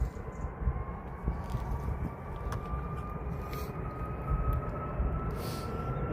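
Turkish Airlines jet engines spool up at Manchester Airport, a steady broad roar with a faint rising whine held throughout, heard from a distance without talk.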